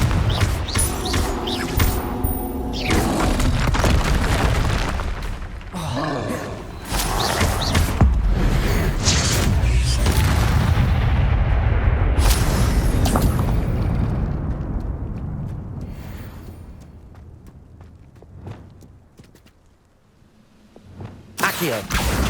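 Fire blast spell explosions and combat effects in the video game Hogwarts Legacy, a loud series of sharp bursts and booming impacts across the first half, fading to quieter rumbles and creaks before another burst at the end.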